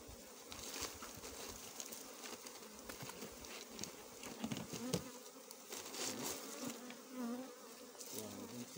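A strong honeybee colony buzzing around a hive standing on a locally made support, a steady, dense hum with individual bees droning past close by, and no talking.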